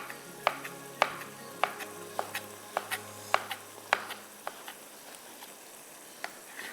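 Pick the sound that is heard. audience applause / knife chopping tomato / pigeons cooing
knife chopping tomato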